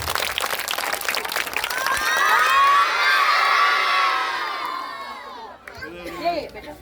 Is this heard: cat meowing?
no